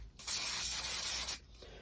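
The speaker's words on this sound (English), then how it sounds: "then all we're going to do is to take some spray glue" Spray glue hissing onto the back of a card, one continuous close burst lasting just over a second, starting and stopping abruptly.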